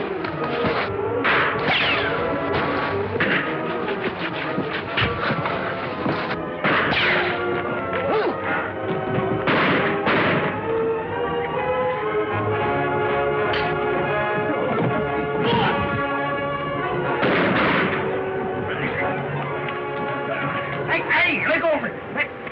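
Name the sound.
gunfire in a western fight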